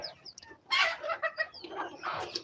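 Local farm chickens cluck in short, close bursts, several soft clucks in quick succession with no other sounds.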